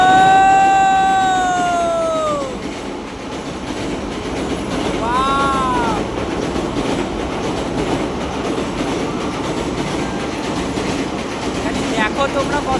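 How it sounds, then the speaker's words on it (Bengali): A train rolls across a bridge overhead near the Kopai river, a continuous loud rumble and clatter of wheels on rails, with long screeching wheel squeals and a rhythmic clickety-clack as the cars pass. "ওপর দিয়ে ট্রেনটা দেখো কি ভয়ঙ্কর ভাবে যাচ্ছে।"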